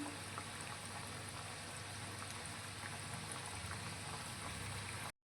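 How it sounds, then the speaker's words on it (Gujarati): Muthiya dumplings deep-frying in oil over a low gas flame, a faint, even bubbling hiss that runs steadily before cutting off abruptly. "ધીમા ગેસની ફ્લેમ પર તેને તળીશું"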